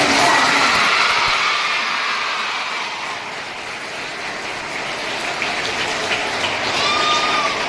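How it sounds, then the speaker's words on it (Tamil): Schoolgirls applaud at the annual day function of the Perundurai Government Girls Higher Secondary School, a dense, steady wash of clapping from a large crowd that carries on loudly and evenly for the whole stretch. "உங்க கைத்தட்டல் விண்ணை பிழக்குது."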